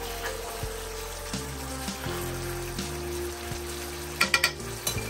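Thick sauce fries in a pan while being stirred, giving a steady close sizzle with soft scraping and a few louder clacks of the utensil near the end, over a low hum.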